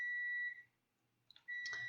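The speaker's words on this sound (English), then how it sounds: "Just ignore that beep. I'm making soup." A kitchen appliance beeps while soup is being made, sounding as faint, steady electronic tones with a short gap and a couple of brief chirps before the tone resumes, heard alone.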